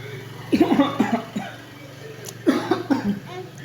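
Two bursts of harsh coughing, the first around half a second in and another a couple of seconds later, close and fairly loud over a steady low hum.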